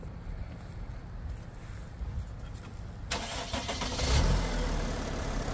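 A Mercedes Sprinter motorhome engine cranks and fires after a jump-start, the starter turning over before the engine catches and settles into a steady mid-pitched idle, heard up close at moderate volume.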